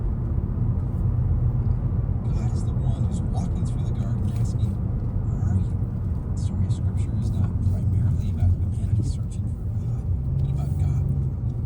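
A car drives along a city street in America, not a highway, its steady low engine and road rumble continuous and close throughout, with talk over it.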